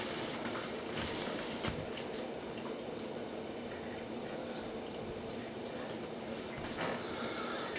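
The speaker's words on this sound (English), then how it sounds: "but I'm sure that's just the water filling up the tub of the dishwasher." Water rushes steadily into the tub of a new dishwasher, a constant hissing flow lasting several seconds with faint drips and clicks and no voices.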